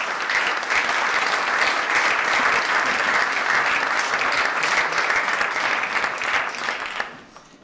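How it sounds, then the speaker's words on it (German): Sustained applause from a conference audience at an annual meeting on digitalization and society, dense and steady for about seven seconds before fading out abruptly at the end. "mit einem Applaus."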